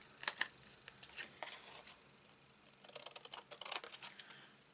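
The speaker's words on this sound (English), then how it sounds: "and then even now you can grab your scissors" Scissors snip through patterned paper in quick, faint crisp bursts, one cluster early and a denser run near the end, with quiet pauses between cuts at a paper-crafting table.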